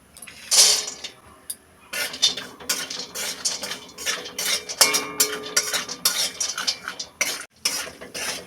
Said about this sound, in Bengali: বাদাম লাল লাল করে ভেজে দেব।